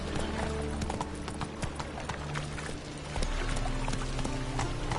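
Hooves of the horse Roach beat in a fast, steady galloping rhythm in a video game, close and continuous, layered over ambient noise with no talk.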